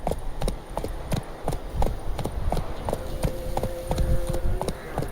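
Roach the horse gallops in The Witcher 3: Wild Hunt, a fast, even run of loud hoof clops with a faint tone lingering underneath, and no talking.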